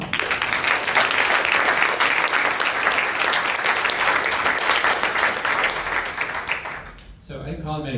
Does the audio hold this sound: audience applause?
yes